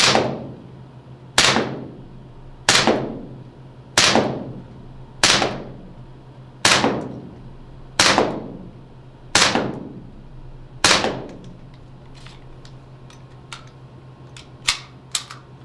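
Gas blowback airsoft pistols, an M1911A1 and an HK45, fired at a target 5 m away: eight sharp, evenly spaced pops about 1.3 seconds apart, followed by a few fainter mechanical clicks.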